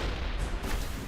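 A grenade goes off in the video game Mass Effect, a loud, close, booming blast with rumbling low end that fills the whole short moment.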